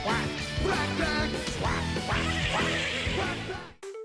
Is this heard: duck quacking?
yes